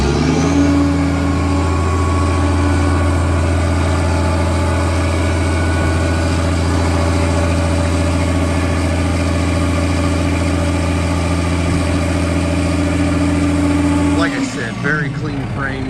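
A 2005 Kenworth T300 tandem dump truck engine runs at a steady, loud diesel idle with a strong low hum and even drone throughout, shifting briefly near the end.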